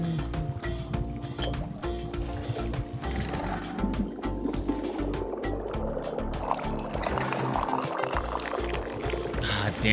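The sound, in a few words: pouring liquid into the pyramid in the video game Wanderstop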